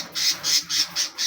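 A pet lovebird gives five sharp, loud squawks in quick, even succession, close by and with no other sounds.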